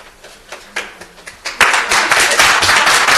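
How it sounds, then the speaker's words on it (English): Scattered claps from an audience at a county board meeting, a few isolated claps at first before building into a fuller, steady burst of applause. "It's far more persuasive when you don't clap after people speak."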